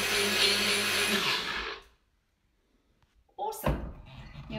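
A blender whirs loudly as it froths milky coffee, running for about two seconds before cutting off, followed by silence and then a clunk and brief clatter.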